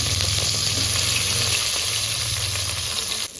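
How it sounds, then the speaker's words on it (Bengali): Eggplant fries in hot oil in a pan, giving a steady, bright sizzle with a low bubbling hum underneath, close and loud, easing briefly at the very end; no one speaks. "এবার বেগুনটা ভেজে নিচ্ছি।"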